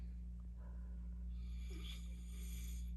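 A man snoring loudly and steadily in a house, heavy breathing rasps carrying over a constant low electrical hum.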